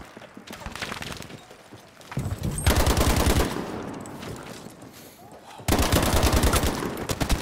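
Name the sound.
light or medium machine gun fire in Battlefield 5 video game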